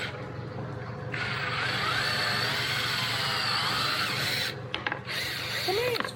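A power drill bores holes into a van roof during a solar panel and antenna install, with a steady grinding rasp that holds for several seconds and then cuts out, followed by brief knocks.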